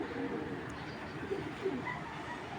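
Giribaz racer pigeon at a breeding farm cooing softly, low murmuring coos over a steady background hum, with a couple of brief louder calls near the end.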